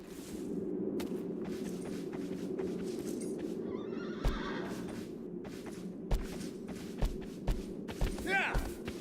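A horse in Shadow of the Colossus whinnies over a droning game soundscape, with hoof thuds, clip-clop steps and a rising neigh near the end, while someone talks.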